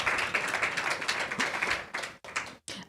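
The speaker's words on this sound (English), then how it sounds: "So please, another round of applause." Audience applause at an inclusive education panel event, dense clapping from many hands that fades out near the end with a few last isolated claps.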